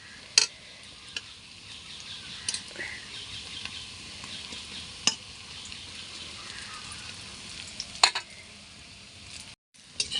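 Pumpkin flower fritters (kumro phuler bora) fry in a pan with a faint, steady sizzle, punctuated by occasional soft clicks and scrapes.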